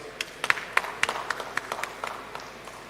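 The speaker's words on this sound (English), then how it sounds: "A round of applause." Sparse, scattered handclaps from a small audience at a church teaching session, individual claps distinct and fairly faint, thinning out toward the end.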